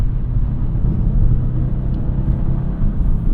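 A 2025 Subaru WRX TS driving over road imperfections: a loud, continuous low cabin rumble with slight bumps and tire roar, no speech.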